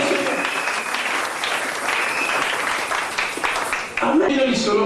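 A church congregation claps loudly for the Lord, dense sustained applause filling the room while a voice speaks over it, with a brief dip and then renewed cheering near the end.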